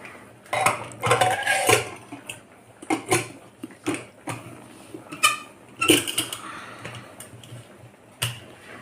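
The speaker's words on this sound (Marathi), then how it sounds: "तर कुकर आता गॅसवर ठेवते" A pressure cooker holding dal, peanuts, turmeric and a little oil is set down on a gas stove: a close run of metallic clanks, knocks and scrapes in an uneven rhythm, with no talking.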